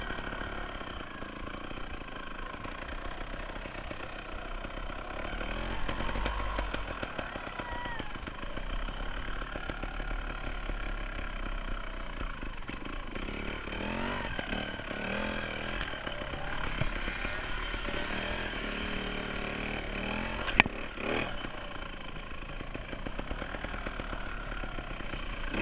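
Trials motorcycle ridden on very little throttle during woodland practice, its engine puttering in a steady, low, close drone with small rises and dips in revs and a brief sharp knock near the end.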